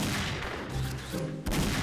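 Rapid bursts of gunfire from the AWP sniper rifle in the shooting game XSHOT, loud and dense, with booming reports packed together across the whole stretch and no talk.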